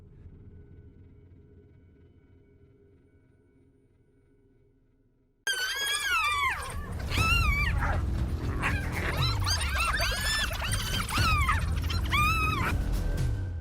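A pack of wild dogs on open land yips and whimpers near three hyenas feeding on a carcass; after about five seconds of low, quiet rumble, a loud, dense chorus of high yelps and whines breaks out and continues close by.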